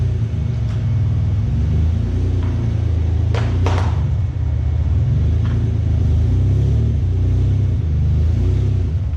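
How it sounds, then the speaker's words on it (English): A car moved a short distance in a garage or driveway, with a steady low engine rumble throughout and a brief rev in the middle, close and continuous. "I'm just gonna move my car over a little bit so I have a little bit more room"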